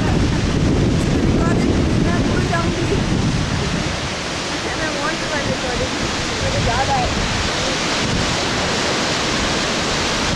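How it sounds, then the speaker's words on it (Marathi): Thoseghar waterfall in Satara roars as a steady, broad rushing wash of falling water, with people talking over it throughout. "आणि हा आहे महान धबधबा"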